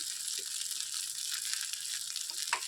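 Jalebi batter fries in hot oil with a soft, steady sizzle and a few faint crackles and bubbles, quiet and even throughout.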